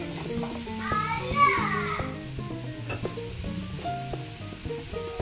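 Finely chopped capsicum being mixed into a sizzling pan, a steady fry with scraping strokes while a voice and other talk carry on over it.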